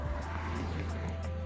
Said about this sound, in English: We kind of live on a busy street, so you might hear some cars.